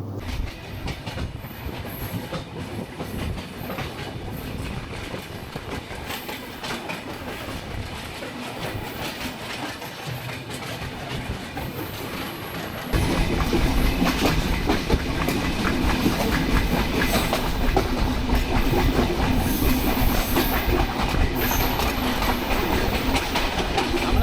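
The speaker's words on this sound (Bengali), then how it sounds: "ট্রেন নাম্বার সাতশো উনসত্তর ধূমকেতু এক্সপ্রেস ট্রেনে যাব" Dhumketu Express (train number 769), a Bangladeshi passenger train running from Dhaka to Sirajganj, rolls steadily with a continuous clickety-clack of wheels on rails; the noise gets louder about halfway through and stays close and dense, with no talk.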